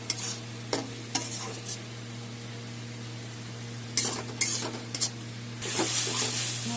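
Masala and tomato fry in a pan, a steady low sizzle under repeated scraping and clinks of a spoon stirring against the metal, close by, ending in louder hissing.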